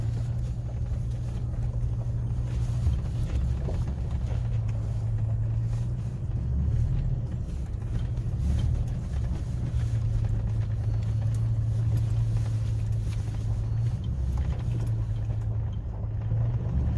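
A truck driven slowly during a driving lesson on a property with a fence, with a steady low engine rumble and hum running throughout, close and continuous with no talk.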